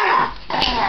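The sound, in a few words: dog growling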